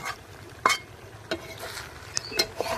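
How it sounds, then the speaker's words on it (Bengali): Prawn legs being stir-fried in a pan: a utensil scrapes and clinks against the metal in sparse, irregular strokes over a faint, steady sizzle, close and fairly quiet. "এভাবেই নাড়াচাড়া করে 5 মিনিট ভেজে নিলেই"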